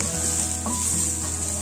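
Chopped onion sautéing in a pan with a steady, close sizzle and a brief soft scrape, no voices.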